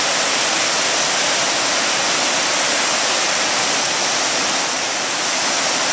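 Broadway Creek rushes hard after heavy rain, a loud, unbroken roar of churning water that stays steady and close throughout, with no other sounds breaking through.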